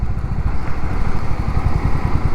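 A Royal Enfield Hunter 350 single-cylinder engine runs with a steady, close, throbbing low thump, a loud even pulse throughout.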